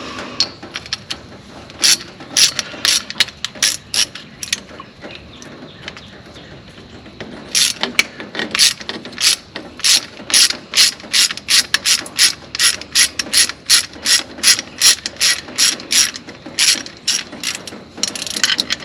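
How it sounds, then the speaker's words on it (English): A ratchet wrench turns a bolt on a truck, loud close clicking in bursts, with a pause and then a long fast run of rapid ratcheting strokes and no talk. "put it in the wrench"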